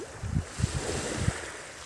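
Relatively calm sea off Cebu in the Philippines rolls in soft, continuous wash with a few gentle low thumps of waves, close and moderately quiet, mixed with light wind noise and no speech.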